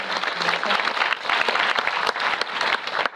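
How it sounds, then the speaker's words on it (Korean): An audience at a Star Chair talk event with actor Jung Woo-sung breaks into dense, continuous applause, with many hands clapping in a close, even wash that continues for the whole stretch. "이건 박수 한번 부탁드려야 될 것 같은데요"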